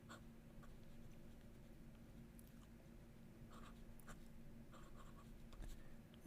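A Jinhao 100 Mini fountain pen scratching across paper, soft steady nib strokes with small pauses between words, close and faint over a low background hum, no talking.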